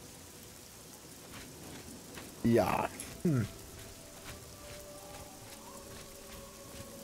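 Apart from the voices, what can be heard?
rain falling in the video game Oblivion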